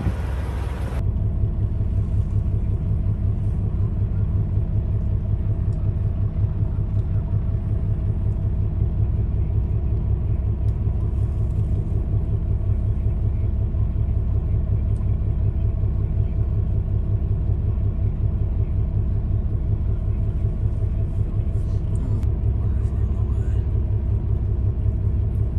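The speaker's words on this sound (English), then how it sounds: "backing up my truck to get the trash" A truck idles with a steady, loud low engine rumble while backing up at a landfill, the drone continuous and unchanging throughout with no speech.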